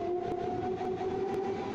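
Steady hum and rumble of a metro train running in a Roblox game modelled on the Athens metro line, a constant tonal drone with faint brief clicks, no voices.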